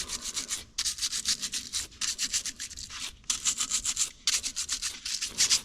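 Scrubbing of the oily undercarriage of a Z31 300ZX during an oil change: bursts of brisk back-and-forth brushing strokes in rhythmic runs, broken by short pauses, close and fairly steady in level, with no talking.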